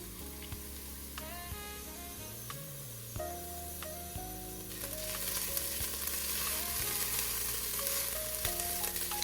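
Pressed garlic sautéing in a pan for BBQ baked beans, a soft sizzle under background music that grows into a louder, brighter frying hiss partway through.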